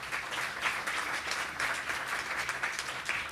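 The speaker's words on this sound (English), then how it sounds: "A special round of applause to" Steady audience applause at an advocacy training event fills the whole stretch, a dense, even wash of clapping heard close and without talk.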